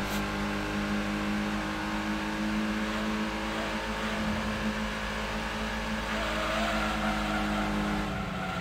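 A tiny Autozam AZ-1 three-cylinder engine revs hard in Gran Turismo 2 around Motorsports Land, a loud, steady, buzzy drone that holds continuously from start to finish with slight shifts in pitch.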